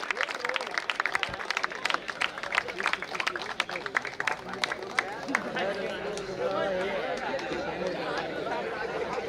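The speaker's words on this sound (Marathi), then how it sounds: "जोरदार टाळ्या झाल्या पाहिजेत" Scattered applause from an audience at a kabaddi prize ceremony, sharp claps standing out over steady crowd chatter and speech babble that thickens toward the end.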